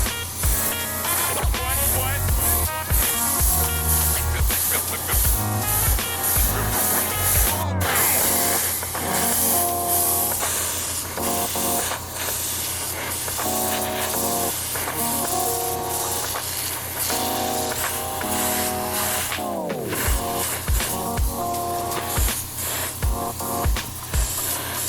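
Aerosol spray paint being applied in coats to a Nissan GTR R35 Liberty Walk model car body, with steady hissing bursts close by and background music throughout.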